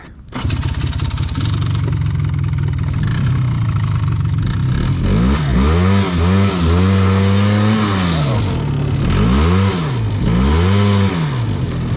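A utility quad ATV engine with a slipping drive belt revs hard and repeatedly, its pitch swooping up and down in wavering surges over a loud continuous engine drone, close and dominant.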